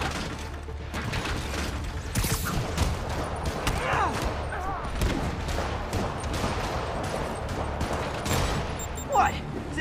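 Rockets fire and burst repeatedly in Spider-Man Remastered, a dense, continuous barrage of mechanical clatter and blasts with a sharp crack near the end, while a voice talks over the action.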